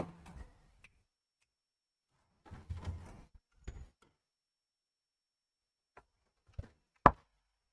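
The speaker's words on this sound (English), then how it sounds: "let me close the door 1 second." A door closes indoors with several short knocks and thumps spread out in time, ending in one sharp bang, with quiet pauses between and no talk.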